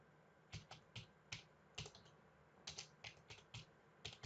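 Keys on a computer keyboard are tapped in quick, irregular strokes, each one a distinct close click, forming a steady run of typing at low volume.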